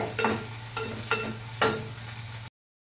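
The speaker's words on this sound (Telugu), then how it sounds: "పోపు ఏగేటప్పుడు" Quiet sizzling of tempering spices in oil for tomato rasam, with a few sharp scrapes of a spoon stirring, under a low steady hum.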